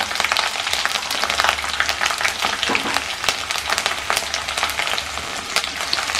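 Steady crackling sizzle of garlic sautéing in hot oil in a pan, a dense popping hiss that continues without pause.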